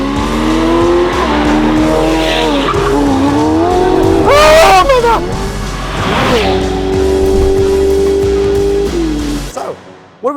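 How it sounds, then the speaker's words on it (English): A Ferrari Pista with an aftermarket exhaust roars loudly and close with the roof down, engine notes rising and falling through gear changes and revs before cutting off near the end. "it has an exhaust system now with the roof down and all of that bellowing into your ears"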